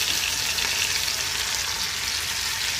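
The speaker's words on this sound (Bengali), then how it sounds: "দিয়ে একটুখানি কষিয়ে নেব মশলাটা, একটুখানি কষিয়ে নেব" Spice paste with ginger garlic paste frying in a pan, a steady close hiss of sizzling throughout the short stretch with no talking.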